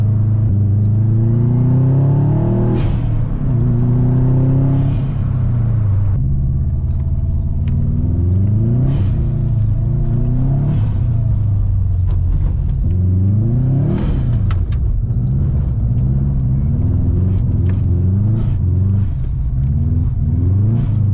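A Subaru car drives along a dirt field road, its engine loud and close, rising and falling in repeated revs and gear changes with rumbling from the rough surface.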